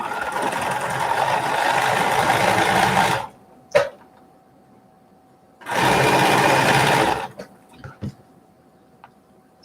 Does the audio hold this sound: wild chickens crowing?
no